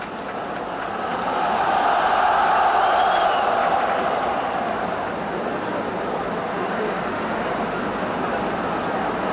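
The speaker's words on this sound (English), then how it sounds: "You can hear the reaction from the local crowd." A local football crowd at a 1982 World Cup qualifier between China and New Zealand roars in a broad, sustained wash of noise that swells early, then holds steady in the distance.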